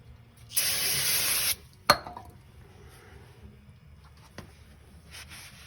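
Cleaner sprays onto a new brake rotor for a 2018 Mitsubishi Mirage G4 in a steady one-second hiss, followed by a sharp metallic knock and soft rubbing sounds from wiping, close up and without speech.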